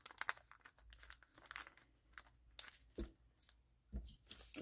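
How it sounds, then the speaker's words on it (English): Craft material is torn and crinkled by hand in a series of short, quiet ripping and rustling bursts with brief pauses between them. "You can also rip part of it off"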